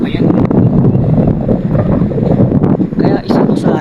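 Steady wind buffeting the microphone outdoors, a constant rushing roar with faint voices beneath it.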